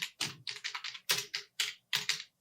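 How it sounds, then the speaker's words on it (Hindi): Someone types on a computer keyboard into Notepad, producing a quick, uneven run of close, crisp key clicks. No one talks. "जैसे हम यहाँ पे कुछ टाइप करते हैं"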